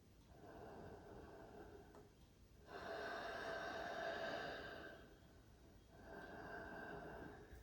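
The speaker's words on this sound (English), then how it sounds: "Do 3 very deliberate breaths that move your abdomen." Slow, deliberate deep breathing that moves the abdomen, heard close and quiet: a long exhale with a steady airy rush, a pause, then another long breath, with no talk.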